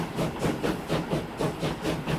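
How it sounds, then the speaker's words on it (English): A train pulling out of a station in Transport Fever 2, its engine chugging in a steady, rhythmic pulse of about four beats per second with a hissy, steam-like texture, moderately loud and continuous with no talking. "there's another train leaving the station as well"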